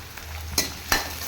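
Curry leaves drop into hot oil for a Tamil cabbage poriyal, giving two short crackling bursts of sizzle over a low steady frying hiss, close and moderately loud.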